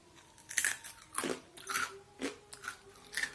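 Biting and chewing a crispy fried milagu vada, a pepper lentil fritter, with several sharp close crunches spaced about half a second apart, quiet with no talk.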